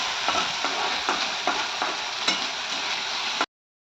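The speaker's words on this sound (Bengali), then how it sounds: "সেটা দিয়ে এখন ভালো করে কষাবো কিছুক্ষণ" Spice paste for a fish curry sizzles steadily in a hot pan, with regular scraping stirs of a spatula every half second or so, close and loud, with no talking.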